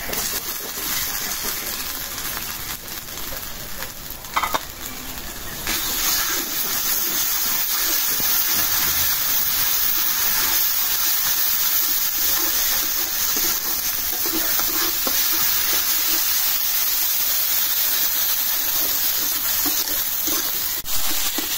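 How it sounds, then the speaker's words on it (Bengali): Ground ginger, garlic, coriander and cumin paste with dried chilli and black pepper paste frying in hot oil for a potato and chicken curry, a loud, steady close sizzle throughout with a brief clatter partway. "মশলাটা তেলের সাথে একদম ভাজা ভাজা করে কষাই নিলাম।"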